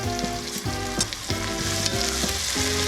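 Potatoes and peas sautéing in oil for an Indian potato, pea and mustard greens dish, giving a steady close sizzle with repeated stirring scrapes and clatters throughout.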